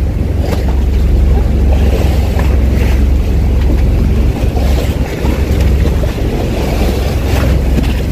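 A boat rides rough, choppy water off El Nido, Palawan, with constant heavy wind and engine rumble, splashing waves and loud microphone buffeting throughout.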